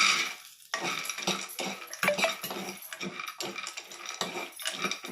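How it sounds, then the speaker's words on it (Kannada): Almonds and cashews roasting in hot ghee in a pan for a masala fry: a steady sizzle under repeated, close scraping strokes of a spoon against the pan, with no talking. "ತುಪ್ಪ ಕಾಯ್ದ್ಮೇಲೆ ಬಾದಾಮಿ ಗೋಡಂಬಿ ಹಾಕ್ತೀನಿ"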